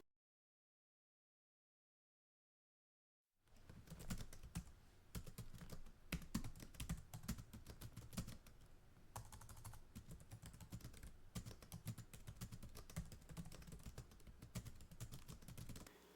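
Steady, rapid clatter of keys on a computer keyboard as code is typed, close and continuous after a few seconds of silence, with no voices.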